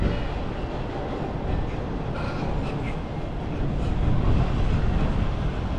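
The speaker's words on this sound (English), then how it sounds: "And there goes a train in the background way over there." A distant train rolls past beside a theme park construction site, a broad, low rumble lasting throughout, faint and steady under outdoor ambience, swelling slightly near the end.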